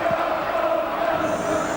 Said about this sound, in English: listen to the crowd here. They've started singing